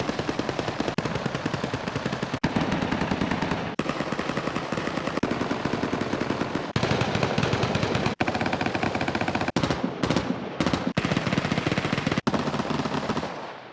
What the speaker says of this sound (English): as evidenced by how assault rifles sound now